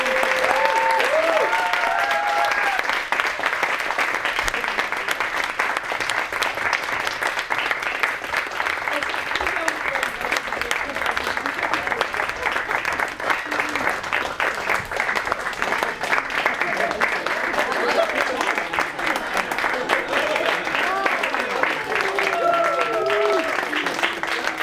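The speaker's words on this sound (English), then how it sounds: "let's give a round of applause to our instructors" Long, lively applause from an audience at an Arabian Nights kickoff event greets the instructors, steady clapping with cheers and voices mixed in throughout.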